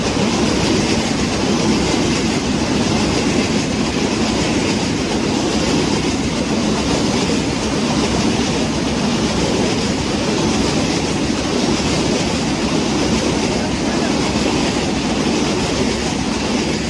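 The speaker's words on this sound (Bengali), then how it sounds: "এই হচ্ছে ও ট্রেন পেয়ে গেছি।" A train rolls past in the hilly Sreemangal countryside, a loud, continuous rumble with clattering wheels that holds steady for the full length without any talk.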